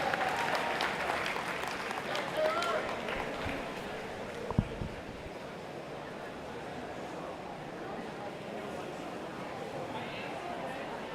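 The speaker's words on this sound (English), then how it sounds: "another round of applause for all your finalists" A crowd at a district high school swim meet gives the finalists a long round of applause. Steady, dense clapping runs for about eleven seconds, with one sharp louder clap midway.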